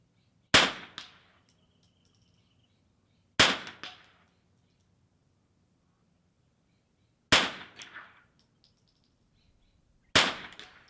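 Four sharp rimfire rifle shots at an NRL22 practice range, each a crisp crack with a short ringing tail, spaced irregularly a few seconds apart with quiet between them.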